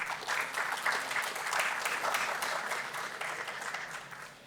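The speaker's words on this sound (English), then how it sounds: "Please give a round of applause." A panel discussion audience at a food safety conference claps steadily throughout, the applause moderately quiet and even, with no voices over it.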